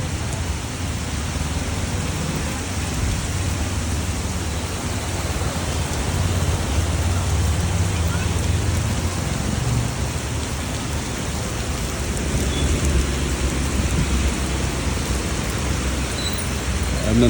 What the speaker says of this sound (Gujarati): ઘણા દિવસ પછી સુરતમાં પાછો વરસાદનો રાઉન્ડ ચાલુ થયો છે.